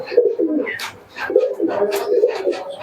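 Pigeons in a pigeon shop coo repeatedly, close and fairly loud, their soft throaty calls overlapping in a steady rolling rhythm.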